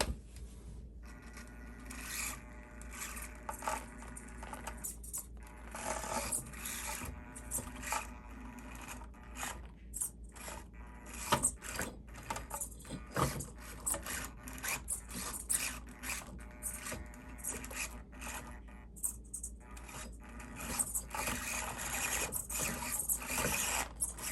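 A Panda Hobby Tetra24 portal-axle RC crawler grinds up an obstacle, with continuous whirring gear and motor noise broken by clicks and scraping as the small truck claws over the surface, close by, no talking.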